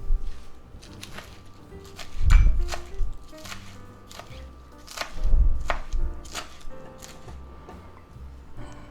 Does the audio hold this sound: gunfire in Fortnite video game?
no